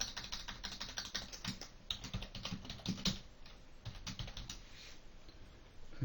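Steady, rapid clatter of keys on a computer keyboard as a new file name is typed, close and continuous for several seconds with no voices.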